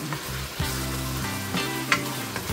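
Spicy shrimp paste (bagoong) frying in a pan gives a loud, steady sizzle with crackling pops and occasional stirring scrapes, close up and with no talk.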